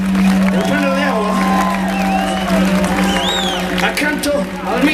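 A live concert audience in Sassari applauds and cheers for a musician, with scattered whoops and shouts over a sustained low hum from the stage sound system, lasting a few seconds.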